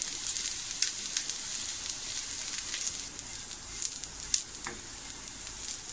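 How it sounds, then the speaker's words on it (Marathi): Chana masala stir-fried and roasted in a pan, a steady close sizzle with occasional crackles and light scraping pops throughout, no voices. "थोडं परतून घेऊ आणि छानपैकी आपल्याला भाजून घ्यायचं आहे."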